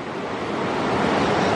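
A river rushes loudly and steadily at a rocky river crossing on a forest trail near a waterfall, a continuous close roar of fast, deep-flowing water with some wind buffeting and no voices.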